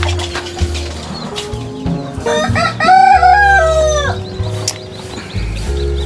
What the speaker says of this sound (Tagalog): Sari-sari po yung manok natin dito